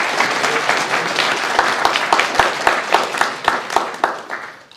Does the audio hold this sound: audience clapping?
yes